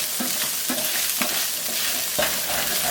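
Beef mince and onions frying in a pan, with a steady loud sizzle broken by repeated scraping strokes of a utensil across the pan bottom, roughly every half second.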